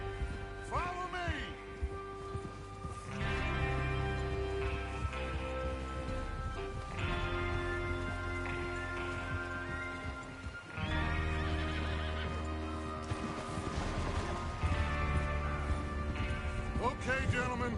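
Horses whinny and neigh repeatedly with hoof clip-clops in Red Dead Redemption 2, set against a steady game soundscape, with bursts of louder activity and brief speech mixed in.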